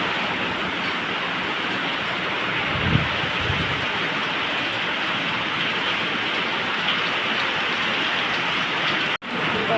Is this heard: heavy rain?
yes